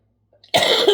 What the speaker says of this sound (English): Still fighting this stupid cough.